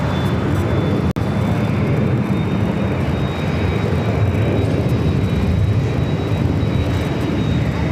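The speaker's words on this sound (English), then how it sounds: "there goes the C-17 takeoff there on the north side" A Boeing C-17 takes off from the north side of LAX, its jet engines roaring loudly and steadily for several seconds amid broad airport noise.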